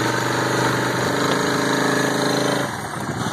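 Small tiller motor idling, a loud steady close rumbling putter with a fast pulsing beat that drops in pitch near the end.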